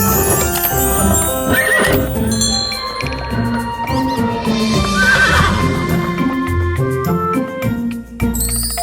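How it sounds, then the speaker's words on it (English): A horse gives a loud, close whinny over steady clip-clopping hooves, with jingling bells running underneath. "It's a horse."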